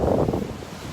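A brief, steady gust of beach wind rumbles against the microphone on a North Naples, Florida shoreline, close and moderately loud.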